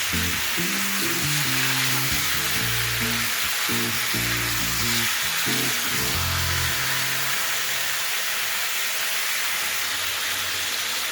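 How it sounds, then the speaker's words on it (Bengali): Chicken pieces fry over a high gas flame, a dense unbroken sizzle with a low tonal hum from the burner or kitchen early on, close and steady throughout. "গ্যাসের ফ্লেমটা হাইতে রেখে চিকেনটাকে আমি হালকা করে একটুখানি ফ্রাই করে নেব।"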